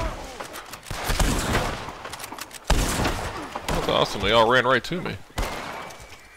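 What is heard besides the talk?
fireworks being set off outside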